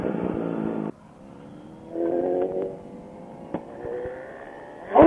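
A motorcycle revving in first gear for a wheelie attempt, a loud close engine note that cuts off abruptly, then rises again in several shorter pulls with a faint mechanical clack, alone without voices.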